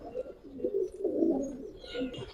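Pigeons of a fancy breed coo steadily in soft, low, warbling phrases, close by and continuous, with some faint higher chirps toward the end.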